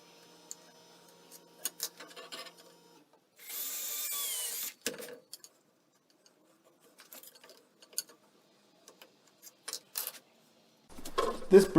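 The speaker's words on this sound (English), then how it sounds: "I need to drill some pilot holes for the eyelets" A short burst of a power drill whirring for about a second, boring pilot holes in hard Brazilian cherry wood, surrounded by sparse clicks, taps and handling noises in a quiet room.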